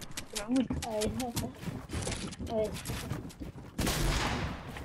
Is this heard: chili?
no